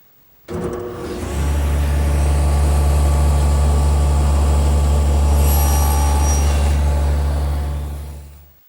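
A table saw with its blade raised to a quarter inch runs steadily, cutting shoulders on wood pieces guided by a miter gauge; a loud, even motor drone starts after half a second and holds to the end.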